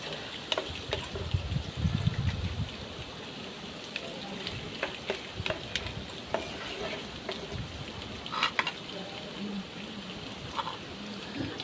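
Potatoes and garlic being stirred in a frying pan, with a soft continuous sizzle under scattered scraping and clinking taps of a utensil against the pan, fairly quiet and close.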